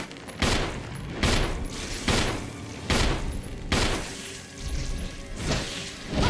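Gunshots in the video game Resident Evil 1, about seven loud, booming single shots fired at irregular intervals of roughly a second, each with a sharp attack and short decaying tail, no voices.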